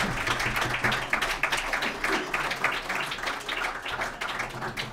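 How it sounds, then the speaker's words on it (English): Audience applause for the panelists at the close of a panel discussion on cultural diplomacy, a steady, dense patter of many hands clapping throughout, moderately loud and without talk. "but please, an applause for you."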